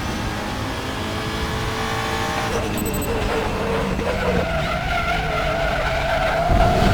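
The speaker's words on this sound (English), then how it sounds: "Braked a little harder than I wanted to" In the RaceRoom sim racing game, a WTCR touring car at the Hungaroring skids under hard braking. Loud tyre scrub and squeal ride over the droning engine, which shifts pitch as the car slows, with no talk over it.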